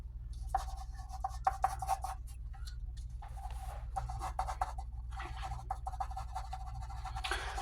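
Pencil scratching and rubbing across drawing paper, quiet repeated strokes and smudging passages with brief pauses, close up over a low steady hum.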